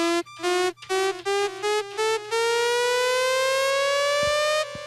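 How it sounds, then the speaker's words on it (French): A dub siren synth plugin built in SynthEdit and run in Ableton stabs out a series of short, stepped-pitch tones, then holds one long steadily rising wail, loud and alone with no talking. "Donc voilà, ça c'est la sirène."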